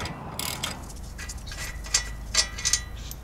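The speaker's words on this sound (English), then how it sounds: "With both bolts loose, now we can take them out all the way with our ratchet." A hand ratchet backs out bolts on a front wheel bearing assembly during a repair, giving a few short, close clicking bursts over quiet background.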